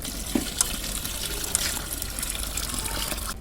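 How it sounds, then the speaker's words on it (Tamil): Water pours steadily into a cooking pot of tamarind-soured curry, a continuous splashing gush with a few small clinks, close and fairly loud. "தண்ணி வந்து நம்ம புளிப்புக்கு தேவையான அளவுக்கு சேர்த்துக்கலாம்"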